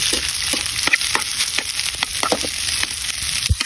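Food sizzles and fries in a pan for a Filipino breakfast while a utensil stirs it, steady loud crackle broken by repeated sharp scraping clicks, with no talking.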